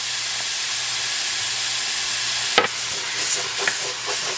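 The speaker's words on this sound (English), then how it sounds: "I apologize if you can't hear me because of the sizzling." Sausage sizzling in a stainless steel pan over medium-high heat, a loud steady hiss close up with brief stirring scrapes partway through.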